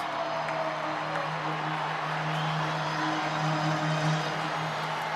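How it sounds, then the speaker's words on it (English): A baseball crowd at a Rangers vs Dodgers game sends up a steady, sustained roar and cheering while a player's walk-up song plays over the stadium speakers. "The pop from the crowd when this man's song hits"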